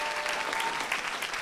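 Steady applause from an audience at a council general assembly meeting, with many hands clapping continuously and evenly throughout, nearby and fairly loud.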